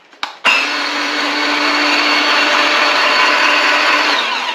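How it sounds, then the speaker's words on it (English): A raised-bed rototiller powered by a 20-volt DeWalt battery clicks, then whirs up to a loud, steady high-pitched electric motor drone, close by and running continuously. "I'm just going to take a 20 volt DeWalt battery and give it a try."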